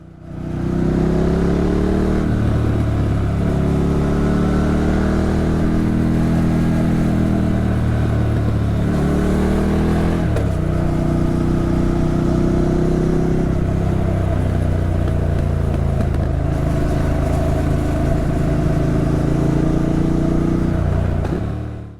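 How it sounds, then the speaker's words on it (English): A 2025 Triumph Speed Twin 1200 motorcycle engine revs up and down through the gears, loud and continuous, with pitch rising and falling as the bike rides along. "The engine is just so lovely to wind up and wind down through the gears."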